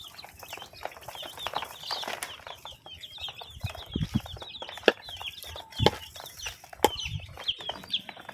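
Young chicks peep and cheep repeatedly at close range while feeding, with scattered soft knocks and rustles and no talking.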